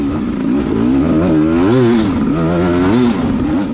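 A hard enduro dirt bike engine at the Saddleback Xtreme event revving hard on the throttle, a loud, close, wavering buzz climbing and dipping in pitch without pause.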